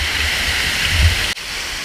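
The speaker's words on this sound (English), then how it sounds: "we've come to these really nice waterfalls" A waterfall of crystal-clear water pours in Vang, a steady, dense rushing roar heard close and alone for under two seconds, briefly cut near the end.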